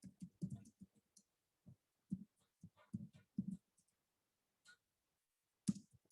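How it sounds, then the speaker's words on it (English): Someone types on a computer keyboard in scattered bursts of soft, close key taps separated by short pauses, quiet in a silent room. "Okay, now I have remembered the homework and I'm basically typing it out."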